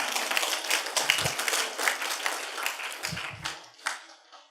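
Congregation clapping together during a church worship service, a steady dense patter of many hands filling the room for several seconds before thinning out.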